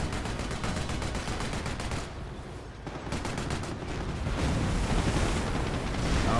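A machine gun emplacement fires in Company of Heroes, a rapid, dense stream of gunfire that rattles on continuously with a brief lull in the middle, amid the rumble of a battlefield and without voices.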